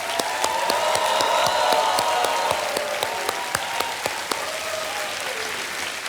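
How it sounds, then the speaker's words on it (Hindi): Studio audience of the Hindi TV quiz show Kaun Banega Crorepati applauding a contestant who has just quit with her winnings: a dense, steady wash of clapping with individual sharp claps standing out over soft background music, fading a little toward the end. "तालियों के साथ इनका हम अभिनंदन करते हैं"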